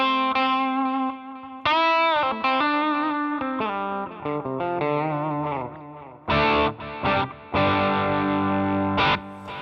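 Overdriven electric guitar playing sustained notes and phrases, with a vintage mono delay from an HX Stomp XL softly repeating behind the notes; no talking.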